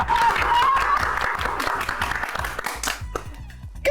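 Hand clapping in a Gujarati family comedy TV serial scene: several sharp claps sound over a rhythmic musical backing.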